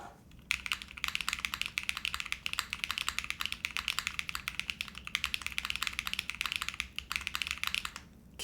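Fast, steady typing on a Molly60 mechanical keyboard, a dense run of crisp clacking keystrokes close to the mic with a couple of brief pauses, heard alone without talk.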